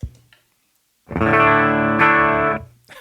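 One loud electric guitar chord through a ProCo Brat distortion pedal rings out on its own for about a second and a half, with a slight re-strike midway, between short bits of talk at the start and end.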